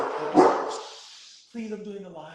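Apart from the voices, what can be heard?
dog barking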